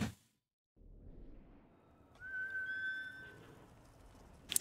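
A horse in the samurai game Ghost of Tsushima gives a clear whinny, with a rising-then-sustained call that trails off over a soft background bed of game ambience.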